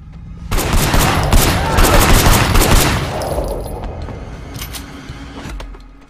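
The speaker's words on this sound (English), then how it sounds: "We're now switching seamlessly from a hand-to-hand combat mission to a shooting mission" Sustained gunfire in the video game Sleeping Dogs during a shooting mission, a loud, dense fusillade of overlapping shots that roars for a few seconds and then fades into lingering rumble and scattered echoes.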